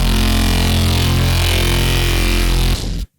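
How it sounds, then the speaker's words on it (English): A thick, buzzing distorted synth bass note drones steadily for about three seconds, then cuts off abruptly into silence. "So first sound is just going to be a bass sound."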